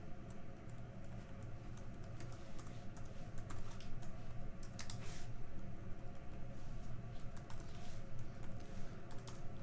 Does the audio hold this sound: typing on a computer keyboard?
yes